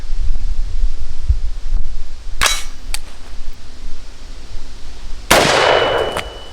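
AR-15 shots at an outdoor shooting range, two sharp loud cracks a few seconds apart, the second with a longer ringing decay, over faint wind and rustling.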